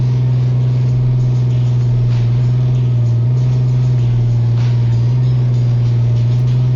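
Video-game Autocar ACX garbage truck with a front loader runs its engine, a loud, steady synthetic drone with a strong low hum that shifts pitch slightly in small steps, with no voices present.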